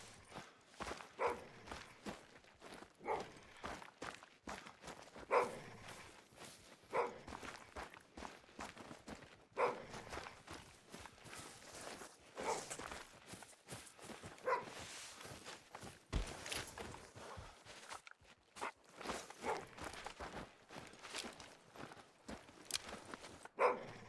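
In theHunter: Call of the Wild, an animal gives faint, intermittent growls and barks in the distance, among soft footsteps moving through the terrain.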